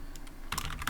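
A quick burst of computer keyboard typing while writing Python Tkinter code, several close, crisp key clicks bunched together after a brief quiet moment.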